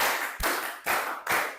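Three distinct hand claps in a steady rhythm, close and crisp, each with a short ring-out, part of a counted clapping routine during a classroom icebreaker.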